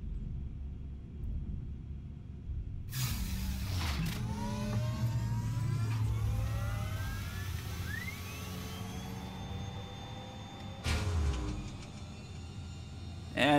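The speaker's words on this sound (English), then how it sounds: "It makes some really cool sounds as you power it up. Kind of a spooling up." Aegis Hammerhead turret powering up in Star Citizen, a rising whine with sweeping tones that climb and settle over a low rumbling hum, moderately loud and sustained, with no speech.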